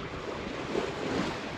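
A sailboat moving through sea waves near the end of a trip within sight of mountains: a steady, full wash of water and wind rushing past, close and continuous, with no talking.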